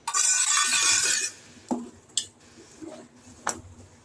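Rice payasam being stirred in a pot, a soft wet squishing scrape at the start followed by a few light clinks of a spoon against the pot, close and fairly quiet with no voices.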